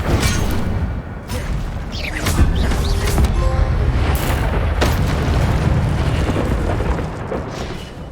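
The Incendio fire spell being cast in Hogwarts Legacy on PS5: a loud, continuous roaring whoosh of flame with booming bursts and crackles, layered with sweeping magical effects and game combat noise.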